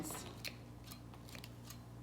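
Flower snips cut through bouquet stems in a few quiet, sharp clicks spaced across a short stretch, faint against a low background hum.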